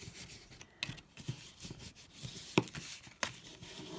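Soft scraping rubs of a fingernail burnishing fold lines on paper card, close and quiet, with a few sharper scratches standing out.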